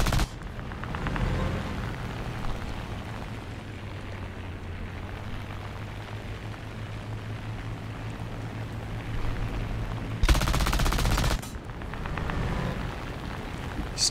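Tank machine gun in War Thunder, on a T26-4 in a ground realistic battle, firing as a continuous rattling burst over a low engine rumble, with a louder, denser stretch near the end; no speech.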